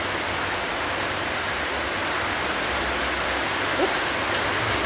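A downpour of heavy rain hisses evenly and loudly nearby, unbroken from start to finish, with only a faint brief tonal chirp poking through the wash near the end.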